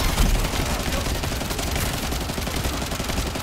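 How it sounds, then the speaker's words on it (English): Continuous machine-gun fire from The First Descendant comes as a dense, unbroken rattle of rapid shots at steady loudness throughout. "Good thing it's a machine gun."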